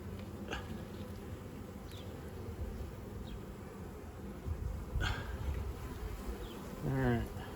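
Honeybee swarms at a hive, a steady low buzzing drone throughout with individual bees zipping past close by, some faint background noise and a brief vocal sound near the end.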